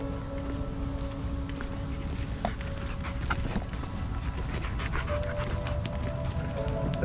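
Several dogs out on a pack walk, panting steadily and close by, with soft footfalls and faint rustling mixed in as they move around.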